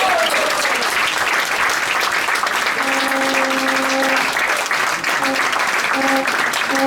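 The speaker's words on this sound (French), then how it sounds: "Je vous demande d'applaudir très fort." A crowd at an evening commemoration of the abolition of slavery claps in loud, dense applause after a poetry reading, sustained for the whole stretch, with a voice briefly audible over it.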